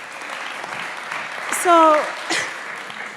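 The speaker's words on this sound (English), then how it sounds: "Round of applause, yeah" Audience applause at a women-in-tech panel, a steady wash of clapping from the crowd, with a short spoken word and a brief voice cutting through partway.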